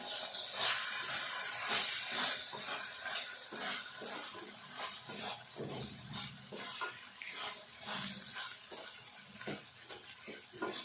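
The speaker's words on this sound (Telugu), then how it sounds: "ఇది కూడా మిర్చితో పాటు ఉల్లిపాయతో పాటు వేగుతుంది వేయించుకోవాలి" Soft, continuous hissing and crackling of green chilies and onion frying in a pan, with occasional stirring scrapes, fairly quiet and close.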